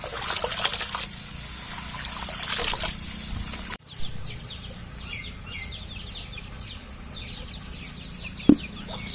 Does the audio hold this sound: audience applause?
no